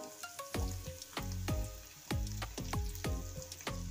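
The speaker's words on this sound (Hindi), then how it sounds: "हमारा आलू फ्राई हो रहा है" Potatoes fry with cumin in a pan, giving a close, crackling sizzle broken by a regular series of sharp spatula strikes and scrapes about every half second, with no talking.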